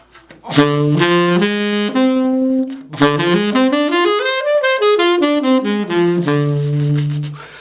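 A clean synthesized tone plays a slow half-diminished (minor 7 flat 5) arpeggio up and down, notes stepping one after another and sustaining, with no voices.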